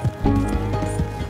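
Hooves thud in quick irregular beats as a runaway horse moves in Red Dead Redemption 2, with a whinny-like cry and some game-style effects layered over it.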